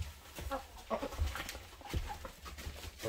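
A rooster and a hen on a farm, with short clucks and calls scattered over a rustling, noisy background and no talking.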